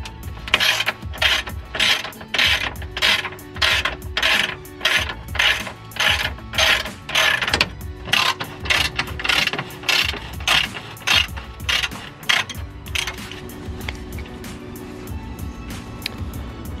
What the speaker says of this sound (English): we're gonna start with taking off all these screws to take the skid plate off